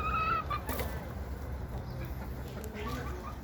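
Backyard chickens cluck and murmur close by at a coop during an evening egg collection, soft repeated calls running steadily through the whole stretch with no talk over them.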